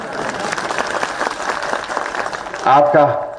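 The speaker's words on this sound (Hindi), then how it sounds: "पुरुष भाई ताली बजाओ आप लोग, अच्छा रहेगा।" A crowd at a political public rally in Dalhousie claps steadily, a dense patter of applause while someone speaks loudly over it through a PA system toward the end.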